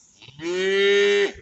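A single cow lets out one loud, close, drawn-out moo lasting about a second, rising in and tailing off abruptly, with no other sounds around it.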